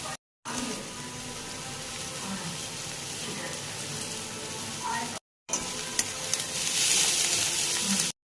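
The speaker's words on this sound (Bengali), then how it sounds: "পেঁয়াজটাকে প্রথমে একটু ভাজা ভাজা করে নেব।" Onions sizzle steadily in hot oil in a pan, with occasional stirring; a continuous broadband frying hiss, close and moderately loud, broken by two brief silent gaps and slightly louder toward the end.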